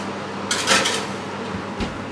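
A tray of potatoes slides into an oven, heard as a short metallic scrape and clatter of the tray against the rack, followed by a softer knock of the oven door.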